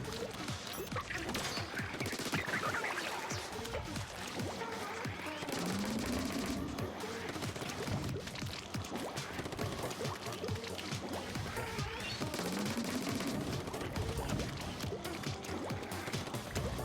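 Octo sniper enemies fire charged shots in Splatoon 2, a rapid busy crackle of gunfire with rising whooshing charge tones, steady and dense throughout alongside game music and effects.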